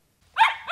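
Two dogs playing together, one carrying a ball, give a short burst of yips and whimpering barks, close and fairly loud, with a second brief yelp right after.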